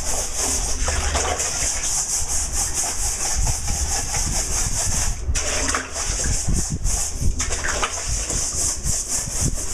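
Scrubbing at the bottom of a storage container filled with bleach water, a steady, close, continuous rasping rub with sloshing water beneath, running nearly unbroken for about ten seconds.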